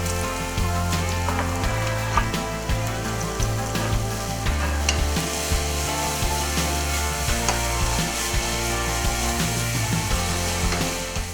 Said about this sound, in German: Aber gebt den Zwiebeln Zeit zum Anbraten,